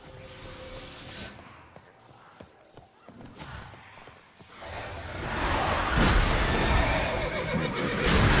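Roach, Geralt's horse in The Witcher 3, is heard with hoof clip-clop and a whinny amid game ambience, with a loud rushing surge building toward the end and a voice talking softly.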